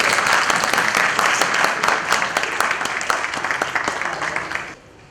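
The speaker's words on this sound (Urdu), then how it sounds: "تالیاں بجائیں" An audience at a welcome ceremony in a Multan tea house breaks into lively applause, many hands clapping briskly and evenly before the sound tapers off and stops near the end.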